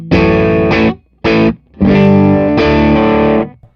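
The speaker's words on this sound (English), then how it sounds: "I'll kick the distortion back on, and we'll mess with the phase switch." An electric guitar played through a distortion pedal rings out in several sustained, heavily saturated chords with brief gaps between them, loud and close with no talking.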